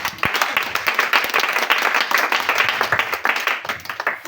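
A church congregation at a French-language Tuesday teaching service claps and applauds, a dense, lively burst of many hands sustained throughout, with faint voices mixed in.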